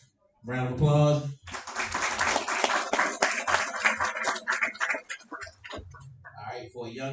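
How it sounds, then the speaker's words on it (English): Audience at a barber bootcamp graduation ceremony gives a round of applause, a few seconds of close, crisp clapping following a speaking voice and fading as talk resumes. "Round of applause."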